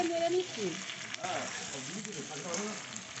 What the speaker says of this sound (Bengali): চিকেনটা দিয়ে দিলাম চিকেনটাকে দিয়ে একটুখানি হচ্ছে নেড়ে নিচ্ছি